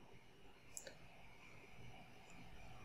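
A computer mouse clicks a submit button twice in quick succession, the clicks crisp but faint against a quiet, hissy room.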